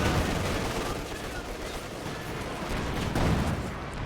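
Katyusha rocket launcher firing in Company of Heroes 2, a dense, loud salvo of rapid overlapping launches and blasts forming a continuous roaring barrage, close and sustained throughout.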